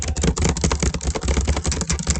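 Fast, steady typing on a computer keyboard while entering text into a document, with dense overlapping clicks and taps running continuously and close by with no pauses.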